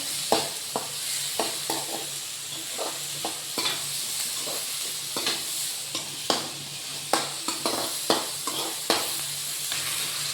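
Steady sizzling of ginger, onions and chillies in tempering oil in a pan, with repeated sharp scraping clicks of a spoon stirring, no voices.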